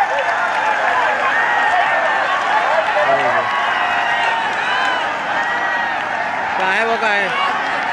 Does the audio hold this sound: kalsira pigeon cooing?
no